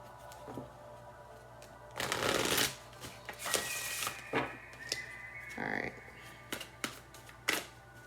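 Tarot cards are shuffled near at hand in a string of soft, papery riffles and flicks, with one louder burst and several quieter shuffles scattered through.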